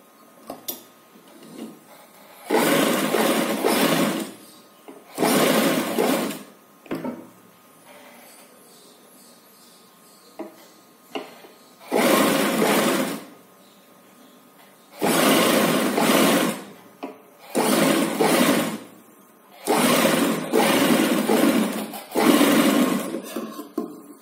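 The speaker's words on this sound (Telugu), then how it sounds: "ఇలా మనం నెక్ లైన్ కంప్లీట్ చేసుకోవాలి. ఒక స్టిచ్ వేసుకోవాలి." A sewing machine stitches around the neckline of an umbrella-style baby frock, running in loud, close bursts of rapid stitching, about six runs of a second or two each, separated by quiet pauses.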